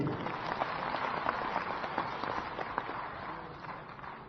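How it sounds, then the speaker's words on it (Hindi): Crowd clapping at a BJP state executive meeting in Raipur, a steady roar of many hands with some sharper individual claps, fairly distant, with faint voices mixed in. "इसके लिए आप सब लोग एक बार ताली बजाइए"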